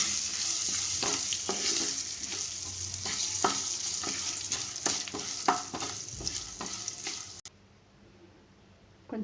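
Turmeric powder sautéing in hot oil in a pan, a continuous close sizzle with repeated scraping stir strokes, the frying cutting off abruptly near the end, no talking.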